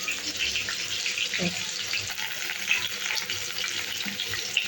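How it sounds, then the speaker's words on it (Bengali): Large chunks of ridge gourd hit hot oil in a home kitchen pan, giving a steady, close sizzle with a brief clatter as the pieces go in; no one speaks. "এবার এর মধ্যে বড় বড় ঝিঙেগুলো ছেড়ে দেবো।"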